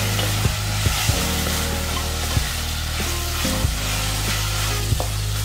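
Tomatoes frying in a pan for prawns pulao, a steady close sizzle with a low hum and occasional soft stirring clicks, no voices.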